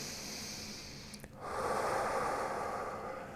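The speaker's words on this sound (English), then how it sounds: "So big breath in" A steady, breathy inhale through the nose or mouth during a protracted hold in handstand strength training, beginning abruptly after a brief catch and continuing as a broad, moderately loud rush of air.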